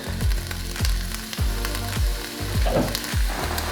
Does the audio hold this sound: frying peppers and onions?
yes